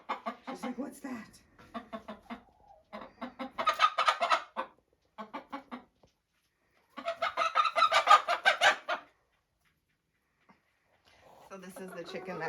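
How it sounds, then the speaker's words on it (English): A backyard chicken in a winter coop setup clucks and squawks up close in rapid bursts, with short pauses between the outbursts. "So this is the chicken that's been getting up in the south bed."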